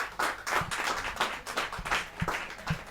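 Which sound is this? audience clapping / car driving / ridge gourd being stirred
audience clapping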